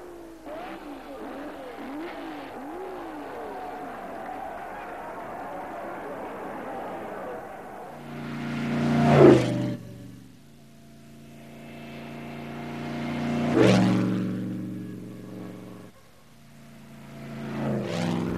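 An Alfa Romeo Monza race car from the early 1930s passes by three times, each pass swelling from a distant engine note to a loud close roar and fading away, with a quieter engine hum and background sound beforehand.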